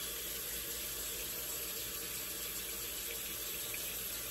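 Tap water runs steadily into a sink to rinse after a shave, a constant, even hiss and splash with no pauses and no talking.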